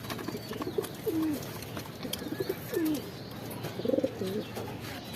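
Red checker pigeons coo on a rooftop, several soft, low cooing calls rising and falling at intervals, with faint outdoor background noise around them.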